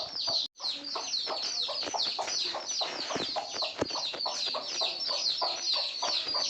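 A dense, continuous chorus of high-pitched cheeping from many small chicken chicks close by, rapid and overlapping throughout.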